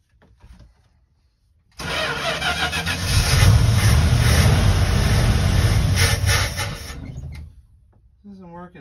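A 1975 Winnebago engine, started for the first time in years, cranks and catches, roaring loud and close for about five seconds before cutting out. Brief speech comes just before and just after.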